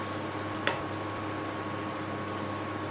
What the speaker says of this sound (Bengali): এবারে গোল্ডেন কালার করে ভেজে নেবো।